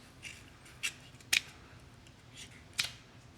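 Scissors snipping open a plastic food package of miso soup paste, giving a few short, sharp close-up cuts spaced apart over quiet background.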